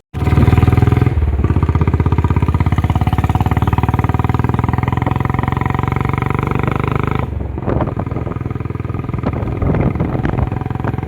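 A Royal Enfield Bullet motorcycle thumps along steadily and loudly through the ride, its low engine beat continuous from start to finish, with a brief dip and rougher road noise in the final few seconds.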